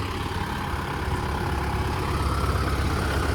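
A 60 hp Kubota tractor engine idles with a steady low rumble and constant mechanical drone, moderately loud and unbroken, with no talking over it.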